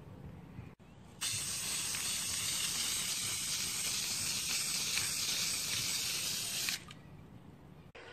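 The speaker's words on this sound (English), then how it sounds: "I might just uh, spray the top part and see how it turns out" A steady hiss of spray paint from an aerosol can runs for several seconds without pause, starting and stopping cleanly.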